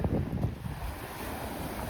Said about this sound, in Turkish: Dalgaya bakar mısınız?